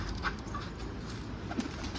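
Birds call softly, pigeon-like coos drifting over a steady rumbling background.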